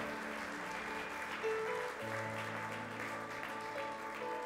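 Crowd applause, a dense patter of clapping that continues steadily throughout, with a few faint background tones underneath.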